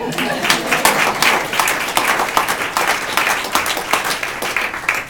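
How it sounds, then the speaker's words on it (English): A room full of people applauds at an event honoring nearly $1 million in family funding for the county, a dense burst of clapping filling several seconds at close range. "should we applaud?"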